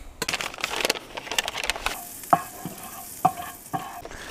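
A pound of ground beef frying and being stirred in a pan at a winter truck campsite: close scraping and stirring clatter over a soft sizzle, then sparse sharp clicks and knocks against the pan.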